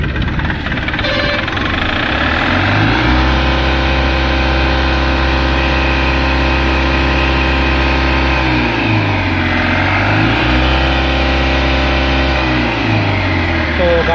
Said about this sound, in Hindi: तो गाड़ी को स्टार्ट करते हैं।